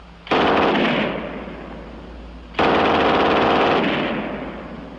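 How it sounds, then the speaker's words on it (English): A German MG 42 machine gun mounted on a tripod fires two long, loud, rapid bursts, the first lasting about two seconds and the second about two and a half, with a brief gap between them. "And last, the German 42 on the tripod."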